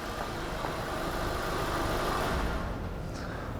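A car engine runs at a steady idle, a constant close rumble with no speech, holding evenly until it starts to fade near the end.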